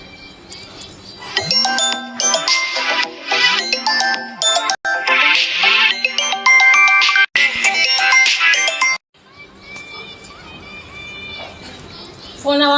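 A bright electronic phone ringtone plays a repeating jingle loudly, pausing briefly a few times, then continues more faintly with voices in the background.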